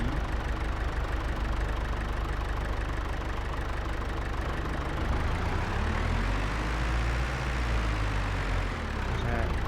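A loud loader engine drones steadily in a farming video game, a constant low mechanical rumble with a shift in pitch partway through, running alone without pauses.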